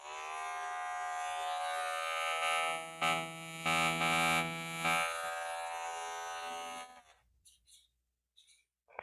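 Novah hair clipper trimmer running in turbo mode, a steady close high-pitched electric buzz with a rich harmonic hum for about seven seconds before it switches off, followed by a few faint clicks.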